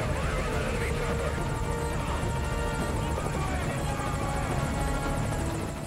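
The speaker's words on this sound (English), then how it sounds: "Focus all your fire on that enemy chopper." An enemy helicopter in the video game Metal Gear Solid V: Ground Zeroes flies overhead, its steady rotor and engine drone holding throughout amid layered battle noise.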